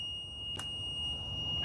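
A multimeter on its continuity setting sounds a steady, high-pitched electronic beep when its test leads touch, heard quietly and continuously with a small click partway through.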